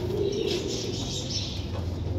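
Rampuri pigeons coo close and fairly loud, low murmuring coos repeated over a short stretch amid a busy loft, with no talk.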